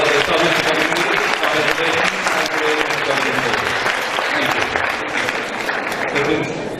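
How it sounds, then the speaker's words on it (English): Audience applause at an annual school appreciation day ceremony, a steady, dense wash of clapping lasting several seconds, with voices mixed in. "Let's give them a big round of applause for the service community"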